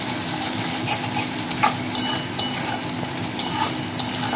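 Fish roe curry being stirred with a spoon in a pan after sugar is added, steady sizzling and frying hiss under several sharp scraping and clinking strokes against the pan, close and fairly loud.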